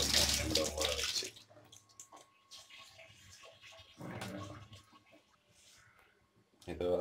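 Dried prawns being rinsed in water, with splashing and running-water bursts at the start, middle and end, separated by quieter gaps, close by and fairly soft.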